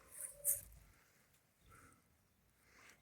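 A dog, a Kangal, whimpers softly in a few short, faint whines with quiet gaps between them, close by in a calm setting.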